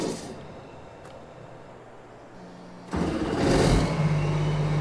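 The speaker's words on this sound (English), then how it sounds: "Turn the engine off and turn it back on." Tractor engine in Farming Simulator 22 idling low, then shut off and restarted, with a sharp rise into a louder, steady rumble that holds to the end.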